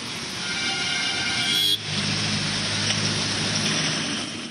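Heavy, steady rain pours over a city street in the morning during slow waterlogged traffic, with a constant broadband hiss of downpour and the low rumble of passing vehicles throughout.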